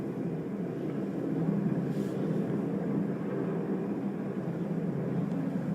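Several helicopters hover close overhead near Ground Zero, a steady, heavy rumbling drone that stays constant throughout and is heard from indoors by a window, with no talking.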